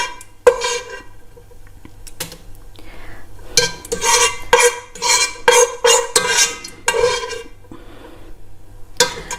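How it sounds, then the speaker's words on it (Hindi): Vegetables for chicken chow mein are stirred and fried in a casserole pot: bursts of metallic scraping and clattering come in uneven clusters over a faint background. "कैसरोल जो होता है हमारा पॉट जो है उसमें फ्राई कर रही हूँ"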